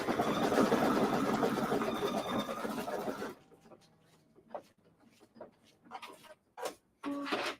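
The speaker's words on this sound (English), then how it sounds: "I'm going to skip over the tack down and just do the final stitch." An embroidery machine stitches a turkey design, humming steadily and loudly before dropping to intermittent mechanical ticks and short bursts, with background noise that may include talk.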